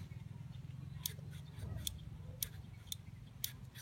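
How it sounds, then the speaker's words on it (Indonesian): The carburetor switch on a Supra X 125 gives about five faint, sharp clicks, spaced roughly half a second apart, as the slide lifts, over a low steady hum. "Ketika skep naik, ketika skep terangkat, dia akan ada bunyi klik."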